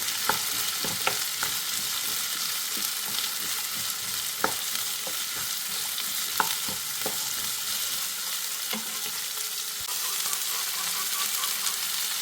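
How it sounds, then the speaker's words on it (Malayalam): Cauliflower thoran frying in a pan while salt is stirred in, a steady bright sizzle with scattered scraping clicks of the spoon against the pan, close and continuous with no talk. "ഉപ്പ് നന്നായി ഇളക്കി കൊടുക്കുക."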